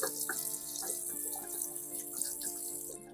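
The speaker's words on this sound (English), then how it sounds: "Rinse the ginger under running water." Fresh ginger root rinsed under a running kitchen tap: a continuous, fairly soft stream of water splashing into a sink, steady for the whole stretch with slight shifts as the root is turned in the flow.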